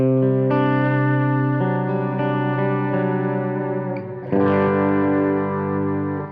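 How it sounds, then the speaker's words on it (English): Distorted electric guitar chords through a humbucker pickup ring out with thick, saturated sustain, shifting to a new chord partway through and then holding it. "when you add some distortion, a humbucker just really shines"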